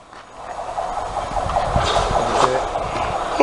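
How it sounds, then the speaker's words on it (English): A train pulls into a station, its rumble and rail clatter rising steadily and growing louder and nearer, with a brief squeal of wheels near the end. "The train's coming, mate, the train's coming."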